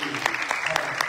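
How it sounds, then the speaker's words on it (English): An audience applauding at a Ramayan yagya gathering in Toronto, a brief burst of clapping with a few distinct claps standing out, close and moderately loud. "let's give a big round of applause"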